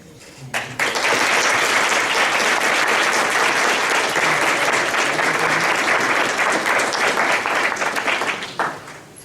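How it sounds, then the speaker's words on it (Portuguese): An audience at an academic lecture applauds a professor, with dense, sustained clapping that starts abruptly, stays loud and even for about eight seconds and then fades out. "e pediria que vocês o aplaudissem."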